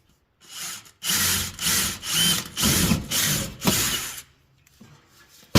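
A power drill whirs in five or six short bursts, grinding into the material with brief pauses between, close and loud, then stops, while fitting a custom undershroud on a G35 or 350Z.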